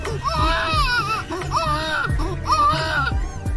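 A voice imitates a baby crying, with three wailing bursts in a row, close and loud.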